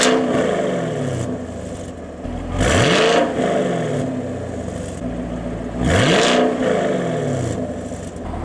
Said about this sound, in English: So I'll do a little rev for you right here.